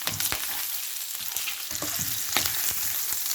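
Garlic and chili sizzle in hot oil with crispy pork belly, a dense close frying crackle with quick stirring scrapes and clicks scattered throughout.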